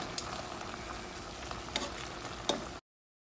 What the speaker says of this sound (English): now I'm gonna stir this all around before I add in my broth